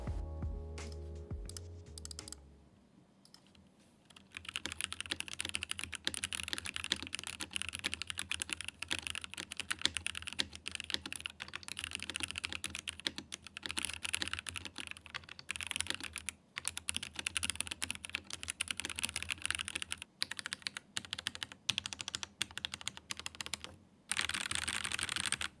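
Typing on a Press Play Rover V3 mechanical keyboard: a brief low hum, then a long run of rapid, close clacking keystrokes with uneven rhythm and a few pauses, no talking.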